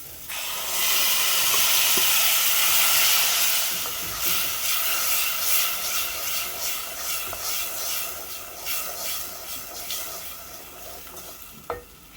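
Blended tomatoes hit a hot pot for a bean stew and sizzle loudly at first, settling into a steady frying hiss with occasional stirring clicks and a sharp knock near the end.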